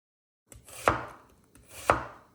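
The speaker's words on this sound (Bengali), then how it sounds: "কুচনো পেঁয়াজ হচ্ছে" Onions chopped with a knife on a board, two distinct close chops about a second apart, each with a short scrape before it, in a quiet kitchen.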